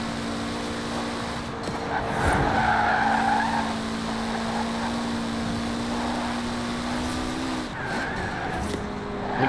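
Car engine in Forza Horizon 4 with a steady high whistle, likely a turbo or supercharger, held over a droning engine while driving, with tire skids partway through; continuous and close.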